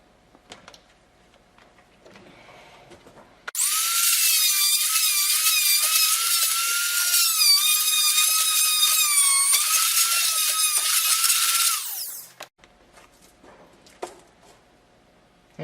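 A power drill bores holes for LED eyes in a skull kit, a loud steady whine of about eight seconds between quiet stretches, its pitch wavering slightly as the bit bites.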